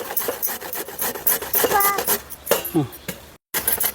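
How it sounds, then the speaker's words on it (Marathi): Fresh turmeric root is grated for pickle, a rapid rasping rub over the grater in quick strokes, close up, with a voice talking over the scraping and a brief gap near the end. "असे खिसून घ्यायचं"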